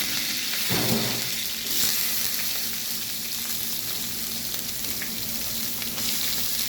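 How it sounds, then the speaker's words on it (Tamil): Mustard seeds, cumin, curry leaves and onion frying in hot oil for a spicy okra tamarind curry, a loud dense continuous sizzle with occasional stirring bursts, close up and without voices. "கடுகு பொரிஞ்சிட்டு கருவேப்பிலை வெங்காயம் சேர்த்துருக்காங்க"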